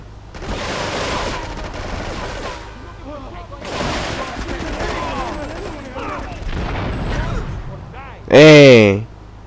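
Shootout gunfire in Grand Theft Auto 3, with bursts of shots mixed with game voices and effects and a sharp loud blast near the end, while a person talks over the action.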